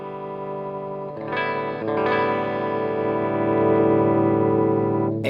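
A vintage electric guitar rings out with the volume turned up, held chords swelling louder in two stepped attacks and sustaining with heavy, effect-laden tone until a final pluck.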